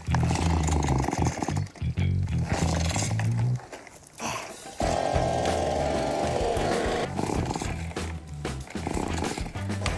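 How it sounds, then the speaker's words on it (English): A leaf blower is pulled into life and then runs in a loud, rough engine drone. Its pitch and level shift as it is started, cuts out briefly, then roars on steadily. "Tempted to get a leaf blower."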